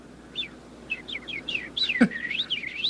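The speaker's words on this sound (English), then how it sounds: "I'm afraid we humans can't speak the language of birds." Small bird chirping in a quiet outdoor scene, a quick series of faint high twittering notes that grow busier, with one brief louder chirp near the middle.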